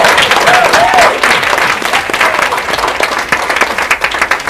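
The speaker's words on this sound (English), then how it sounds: "Give yourself a round of applause because you are actually alive." An audience at a family empowerment day event bursts into sustained applause, dense clapping that stays steady and loud throughout with a brief vocal tone near the start.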